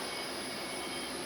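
Steady high whine and hum of a three-phase motor running on single-phase electricity, constant and fairly close with no pauses or voices.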